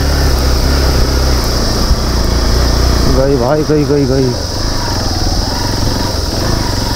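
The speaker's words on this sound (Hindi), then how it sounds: "पहला गियर है ये तो बाइक का, पहले में जा रही है" A Royal Enfield Bullet motorcycle labours up a steep mountain slope on the Kedarnath route in first gear, its engine a loud, steady drone throughout while someone speaks briefly over it.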